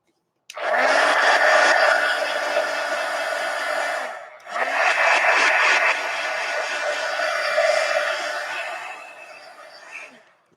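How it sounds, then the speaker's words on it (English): A heat gun blows hot air over a coloring page in two long, steady, loud whirring bursts separated by a brief pause, close by and with no talking over it. "Let me just hit everything with the heat gun real quick."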